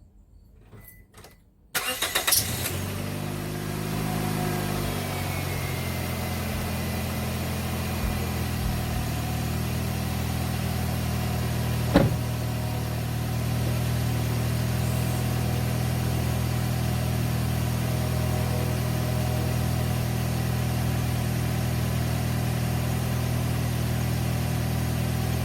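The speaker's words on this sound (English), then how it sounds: "actually start the vehicle up." A 2005 Scion xB engine cranks briefly and catches, then settles into a steady, close idle that runs on without talk, with one sharp mechanical tick partway through.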